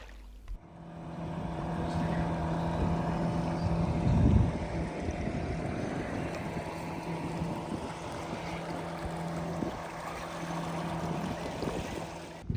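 A motorboat towing another boat on the Murray River rumbles steadily amid wind and water noise, a continuous droning hum with occasional bumps, no voices.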